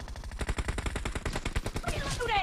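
Rapid gunfire bursts from a video game shooter match, loud and continuous with dense rhythmic shots, ending in a brighter burst of effects that may include a grenade blast.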